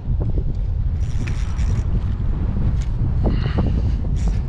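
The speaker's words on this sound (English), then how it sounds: "It's super windy." Loud, steady wind buffeting the microphone throughout while catfish fishing in Michigan, with low rumbling gusts and faint splashing or handling noises now and then.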